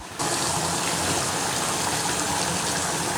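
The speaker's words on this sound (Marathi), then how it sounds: "नंतर पाणी ओतते" Water pours steadily into a pan of sautéed chicken, starting abruptly and continuing as a loud, even gush and splash close up, with no voices over it.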